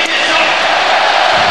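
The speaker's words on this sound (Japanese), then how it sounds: "大きな歓声がこだまします。" A large stadium crowd at Saitama Stadium roars and cheers right after a goal in a Urawa Reds retirement match, a dense, loud, sustained wash of voices with no gaps.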